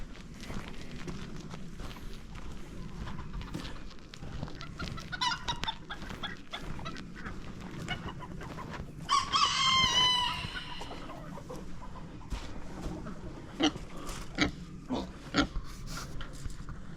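Chickens cluck steadily on a farm with pigs nearby, a loud burst of clucking rising midway, with occasional squeals and rustling close by.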